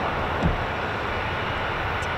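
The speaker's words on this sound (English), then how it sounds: "KC-135 booted up with the 351st Air Refeuling Squadron of the 100th Air Refeuling Wing" A Boeing KC-135 Stratotanker of a USAF air refueling squadron runs its engines, making a steady broadband roar heard from a distance. The sound is continuous and even, with no speech.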